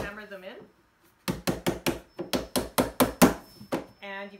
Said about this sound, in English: all you have to do is hammer them in